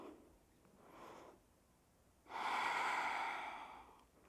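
Steady breathing during a yoga session focused on core muscles: a soft inhale, then a pause, then a longer, louder exhale, close and alone with no talk.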